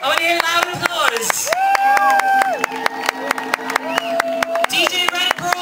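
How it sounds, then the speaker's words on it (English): Audience at a DJ event clapping in quick, sharp bursts throughout, while a loud voice talks over the crowd near the microphone. "I want to hear loud applause."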